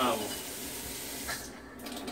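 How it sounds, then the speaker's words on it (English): Cool water runs from the valve stem of a countertop water filter, a soft steady splashing hiss at low level that continues throughout with a slight change in tone toward the end. "pull on this little valve stem, and fill up with water, cool water"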